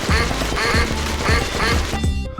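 Ducks quack loudly in a video game, a quick rhythmic series of about five nasal quacks in close succession, ending abruptly, with no talk over them.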